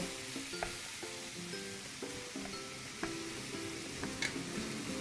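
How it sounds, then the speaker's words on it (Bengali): Chopped onions fry in hot oil with bay leaf and cumin, giving a steady, close sizzle broken by light clinks and scrapes from stirring, with no voices. "যে তেল ছিল সেই তেলের ওপরেই তেজপাতা ও জিরে ফোড়ন দিয়ে কুচনো পেঁয়াজগুলো দিয়ে লাল করে ভেজে নেব"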